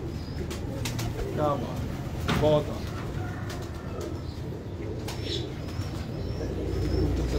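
Teddy pigeons in a Lahore fancier's loft coo in soft repeated bursts, strongest around the middle, with someone talking over the birds throughout.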